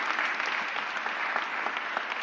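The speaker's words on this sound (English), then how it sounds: "Give him another round of applause," Audience applause at a mayor's press conference announcing new leadership appointments, a steady, dense wash of many hands clapping at moderate distance, continuous for a couple of seconds with no voices over it.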